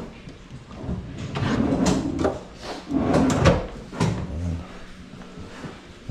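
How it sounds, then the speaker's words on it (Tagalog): A kitchen cabinet drawer slides open and shut in a house under construction, several scraping wooden runs and knocks close by with no talk. "Tapos may drawer din dito."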